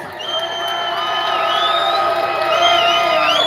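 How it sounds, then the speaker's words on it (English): Outdoor crowd at a freedom assembly rally in Toronto cheering and whooping loudly, with sustained shouts and whistles rising and falling over several seconds. "We got to give this guy a round of applause."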